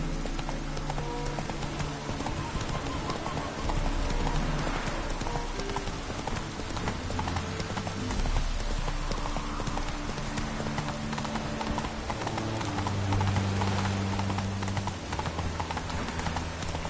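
Horse hooves galloping in The Witcher 3 video game, a fast continuous clip-clop rhythm with game music underneath.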